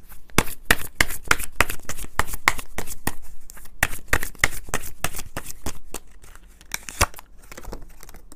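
Tarot cards shuffled close up in a quick run of crisp riffling slaps that keep a steady pace for several seconds and briefly slow near the end, with no voice.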